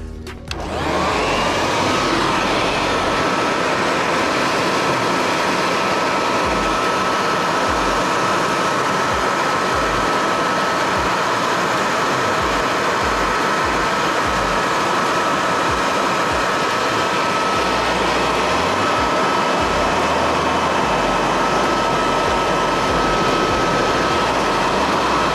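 Blower drying faux wood blinds, a loud, steady, close whooshing roar that starts abruptly and runs unbroken for the whole stretch with a constant whine, no talking.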